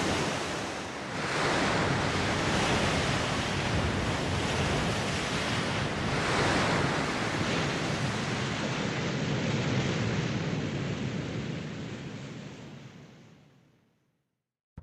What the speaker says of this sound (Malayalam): ആ കടൽ കാറ്റും ശബ്ദവും എല്ലാം കൂടെ it definitely lightens your mind.